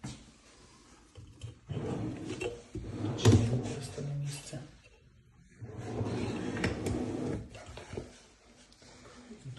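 Kitchen drawers slide open and shut in a couple of separate bursts of rolling, knocking movement, heard fairly close, with quieter pauses between them.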